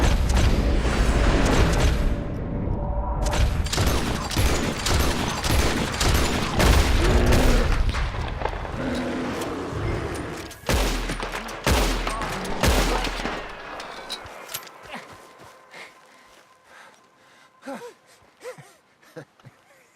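Red Dead Redemption 2 gunfire crackles in a dense, rapid volley of loud shots, slowing into scattered, fainter single shots and thuds near the end, with occasional shouts and gasps mixed in.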